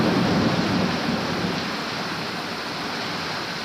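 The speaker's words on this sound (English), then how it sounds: "These desert storms are intense when they hit." Heavy desert rainstorm: a loud, steady roar of pouring rain that swells slightly at the start and then holds constant, with no voices.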